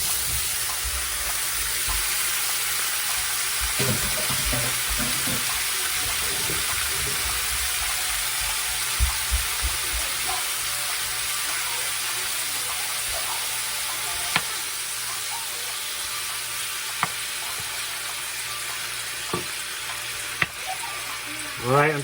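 Meatballs frying in oil in a pan, a continuous close sizzle with scattered pops and clatters from handling the pan.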